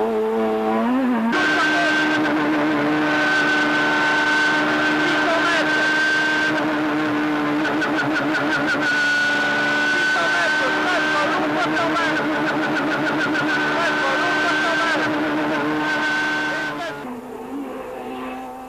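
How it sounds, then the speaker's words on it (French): Ford Puma rally car at the 2001 Boucles de Spa, its engine held hard against the rev limiter with an unbroken high-pitched buzzing wail for about fifteen seconds, loud and close, before it drops away. "Écoutez le moteur au rupteur."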